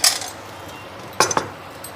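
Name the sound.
ladle clinking while pouring semolina batter into pan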